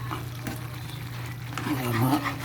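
A spoon stirs minudo stew in a pan, with steady sizzling and frying throughout and scraping strokes growing louder near the end, close and continuous.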